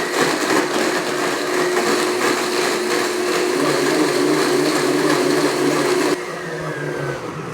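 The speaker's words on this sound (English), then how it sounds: "we're going to blend for about 45-50 seconds" A blender whirring through nut milk, a loud steady motor whine that holds for several seconds and then drops in pitch as the speed is stepped down.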